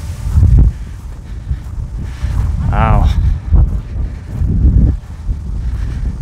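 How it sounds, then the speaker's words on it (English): Wind gusts buffet an outdoor hilltop spot at a distillery in Wanship, Utah, a loud steady rumble with a microphone-battered low roar, while a person speaks briefly over it. "Oh, it's windy up here."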